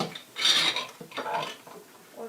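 Clamps fitted one after another around a guitar body being glued during a handmade build, giving short scraping and rasping rubs and light knocks in irregular bursts, close by.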